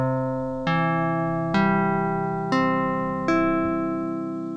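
Slow strums on a Pico Cheatar electronic guitar, four evenly spaced chord attacks, each bright synthetic tone sustaining and fading before the next, close and clear with no voices.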